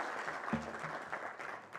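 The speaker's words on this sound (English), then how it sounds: "Atito, please clap for Atito." Applause from a student audience at a national economics debate, called for one of the debaters: brief, steady clapping of a small crowd heard at moderate distance, with no speech over it.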